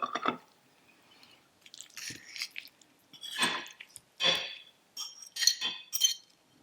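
Quiet close-up eating of a homemade vegetarian feta cheese starter with peppers: soft chewing and squishing, light clinks of cutlery on a plate or glass, scattered in short intermittent bursts.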